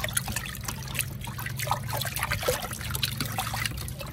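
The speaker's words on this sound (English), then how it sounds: "slosh it around, rinse it out" Alligator hide sloshed and rinsed by hand in a tub of oak bark tea tanning water, giving a steady close trickling and splashing of liquid throughout with no talking.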